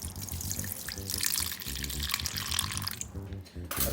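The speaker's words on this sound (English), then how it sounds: "we are going to pour probably half a cup of pickle juice in there." Pickle juice poured into a bowl over chicken gives a continuous splashing, gurgling stream, close and fairly loud, with low background voices underneath.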